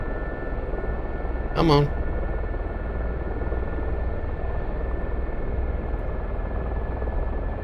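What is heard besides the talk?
Gazelle helicopter engine in DCS World video game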